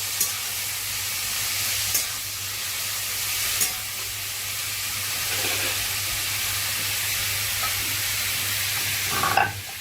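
Food frying in a pan gives a continuous close sizzle and hiss, with occasional stirring scrapes and clinks and a low steady hum underneath, no talk.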